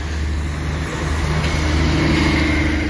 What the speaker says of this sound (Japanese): そしてバスが出発していくにつれ